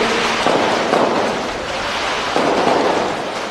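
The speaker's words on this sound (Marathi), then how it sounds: "हे विजयाचे फटाके आज केला होते" Dense, continuous crackling and popping of victory firecrackers going off in a rapid barrage at a political rally, loud and sustained with no pauses.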